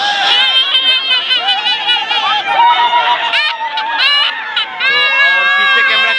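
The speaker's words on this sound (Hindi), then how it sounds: "तो आप लोग देखिए कि कितना भीड़ लगा हुआ है।" Dense crowd murmur at Vaishali Garh in Muzaffarpur, Bihar, a continuous close babble of many voices with children calling out and occasional shouts.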